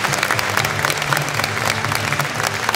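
A hall full of people applauding at a medical-profession gathering, a dense, steady wash of clapping held at an even, loud level throughout.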